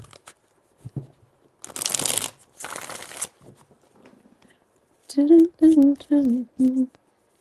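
Tarot cards are shuffled in two crisp riffling bursts near the start, followed by a few soft taps and then a short run of sung or hummed tones.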